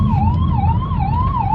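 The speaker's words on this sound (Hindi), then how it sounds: "मेरे पीछे एम्बुलेंस आ रही है, पहले मैं एम्बुलेंस को जगह दे दूँ जाने की" An ambulance siren wails steadily in a slow rising and falling sweep, loud and close, over a deep rumble of road traffic, with no one talking.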